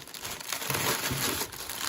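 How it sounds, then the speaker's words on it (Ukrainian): Steady crinkling and rustling of a plastic parcel's packaging being unpacked up close, continuous with a few louder crackles, as vegetable seed packets are handled. "Будемо разом з вами її розпаковувати та дивитись, що там всередині."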